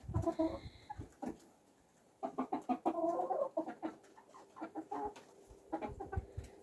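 Autumn-hatched chickens in winter cluck and peck at scattered grain, a close cluster of soft clucks and short calls in irregular bursts with brief pauses and quiet scratching between.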